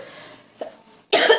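A single cough from someone with a cold and flu, rough and close, preceded by a faint throat sound and quiet room tone.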